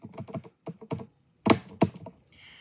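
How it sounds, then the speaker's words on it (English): Quick, light taps on calculator keys as an arithmetic expression is entered, a handful of close, crisp presses in uneven bursts with short pauses between them. "I'm going to type this entire side right here into my calculator"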